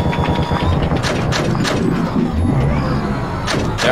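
Cannon fire in the Arma 3 military video game, loud repeated blasts over a constant rumbling battle din, with no clear gaps between shots.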